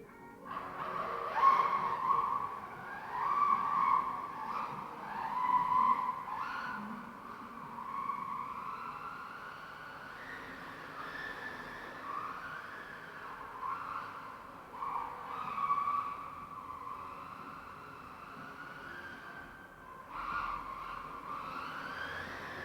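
An MJX C3 radio-controlled car skids and whines across a painted floor, its motor pitch sliding up and down in repeated surges for over twenty seconds, fairly close and steady with no talking.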